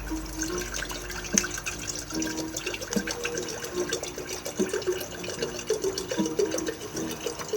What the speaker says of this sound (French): Je vais mettre 1 litre d'eau minérale.